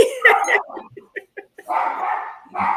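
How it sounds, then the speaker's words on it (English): A dog barks and yips in short, loud bursts close by, with a brief pause between clusters and a few whimpering notes, alone without talk. "I know you have dogs."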